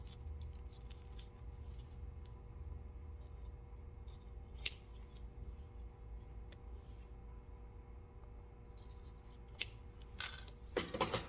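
Scissors trim excess fabric after top stitching a zipper, giving a few quiet isolated snips over a low background hum, with a quick cluster of cuts near the end.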